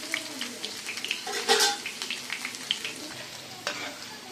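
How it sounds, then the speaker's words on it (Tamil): Ivy gourd (kovaikkai) fries in a pan until brown, a close, lively sizzle broken by repeated scraping and clinks of a spatula against the pan, with one louder stirring burst in the middle. "நல்லா ப்ரௌன் கலராக வர வரைக்கும் வறுத்து எடுத்துக்கலாம்"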